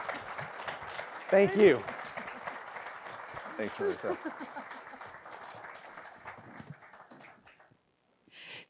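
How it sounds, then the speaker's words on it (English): Applause from a crowd at a city State of the City event runs beneath people speaking, with a few louder voice bursts, before fading into silence. "Let him clap for you."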